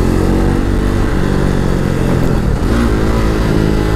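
Motorcycle engine revving hard and steady during wheelie stunt riding, loud and close throughout with a dense continuous roar and no voices.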